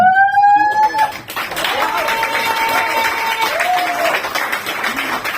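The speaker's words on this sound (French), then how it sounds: "vous allez donner une grande acclamation au Dieu Tout-Puissant pour vous" A church congregation at a worship service claps and acclaims, loud sustained applause building after a sung or shouted line at the start, with voices rising over the clapping.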